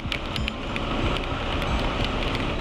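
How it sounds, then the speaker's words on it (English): Heavy rain pours down during a ride on a Honda ADV 160 motor scooter on a road trip in the Philippines, a dense, steady hiss of drops with no talking. "It's starting to rain really hard."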